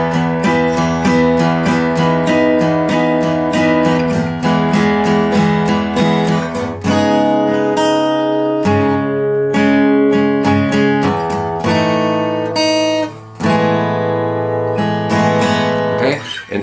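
Solo acoustic guitar plays a song's riff woven into its chord progression, a busy stream of picked melody notes over strummed chords, loud and close, with no speech.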